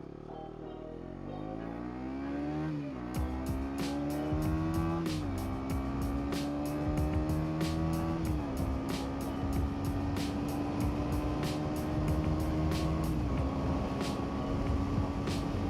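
A KTM Duke 125 motorcycle engine runs continuously up close with a steady droning hum. Its pitch climbs and settles several times as the throttle is blipped, and wind buffets the microphone throughout.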